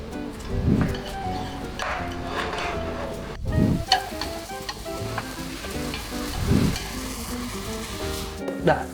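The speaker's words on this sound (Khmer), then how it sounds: "ឆាខ្ញុំដាក់សាច់ចូលមុន" Meat stir-fries in hot oil in a Cambodian home kitchen, hissing steadily up close. A few scraping stirs recur about every three seconds, with faint talk in the background.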